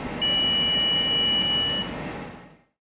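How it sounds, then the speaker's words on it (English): An electronic alarm from a 3D-printed safe box that was opened with the wrong passcode. It gives a steady, loud high-pitched tone for about a second and a half, then dies away into quiet. "Here, Anne made a safe box, which plays an alarm when opened with an incorrect passcode, so Dolphini can stay safe."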